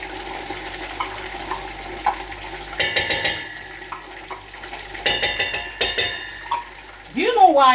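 Tomato paste fries in a pot with a low, steady sizzle while a spoon scrapes and stirs in sharp clattering bursts, ending with a brief voice.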